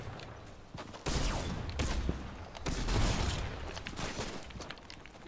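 Gunfire in a Fortnite match, rapid automatic bursts that start abruptly after a second and keep going as a dense, rattling fusillade with clustered sharp shots, loud and close, with no talking.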